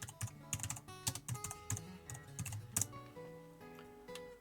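Rapid keystrokes on a computer keyboard, a quick run of crisp clicks entering a short search term, heard up close over faint background music.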